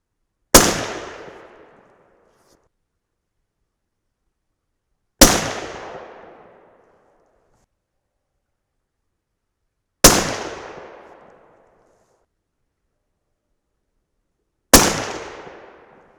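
Four sharp, loud rifle shots from a 300 Win Mag firing 175-grain Sierra Match King handloads crack out alone at even intervals of about five seconds, each decaying quickly into silence.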